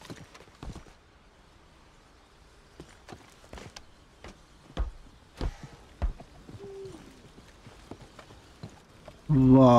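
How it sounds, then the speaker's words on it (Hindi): Horse hooves clop along behind the player in Red Dead Redemption 2, scattered soft thuds at moderate distance with quiet ambient game sound and a brief louder burst at the end. "घोड़ा देखिए हमारा पीछे पीछे आ रहा है."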